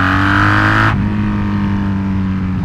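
Honda Magna muscle cruiser motorcycle engine held at high revs, then dropping as the throttle eases, a loud steady close-up drone continuing at lower pitch with no voices.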